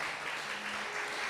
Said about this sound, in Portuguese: Quem pode aplaudir o Senhor?